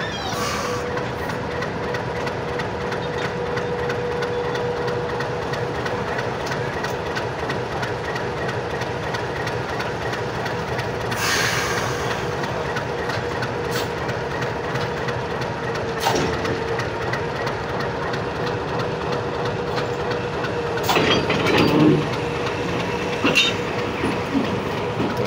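An old train engine and its wagons stand at a railway, a steady mechanical hum and rumble broken by scattered metallic clanks and thuds from the coupling, heard up close for about twenty-five seconds.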